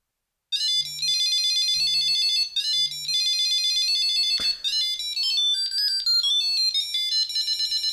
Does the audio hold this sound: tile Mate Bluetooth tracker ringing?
yes